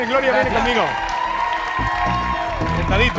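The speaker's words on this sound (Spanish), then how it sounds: "Aplauso grande para Jaime." A studio audience claps for contestant Jaime on a Minuto para Ganar-style game show, broadband applause running steadily throughout beneath a host talking over it.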